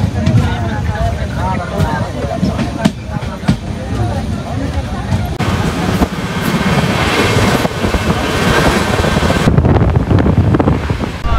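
A train passes Yelahanka junction at night on a Bangalore to Delhi run, a loud continuous rumble and rattle of wheels and carriages, with heavy wind buffeting the microphone and a person talking over it.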